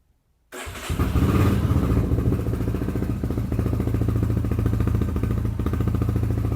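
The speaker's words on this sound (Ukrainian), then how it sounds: "Давайте запущу в моменті, щоб ви почули" After a moment of silence, a 2025 Lifan KPR250 motorcycle engine with fuel injection fires up abruptly and settles into a loud, steady, throbbing idle close by.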